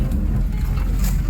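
The cabin of a moving military UAZ Bukhanka van fills with a loud, continuous low engine rumble and road noise, with no voices.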